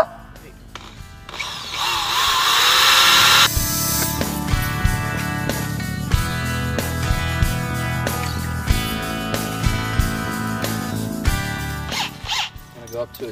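A power drill bores a hole for a rib nut with a series of drill bits in a converted bus, a loud whirring burst followed by repeated short grinding bursts and clicks, close by, with a voice talking between them.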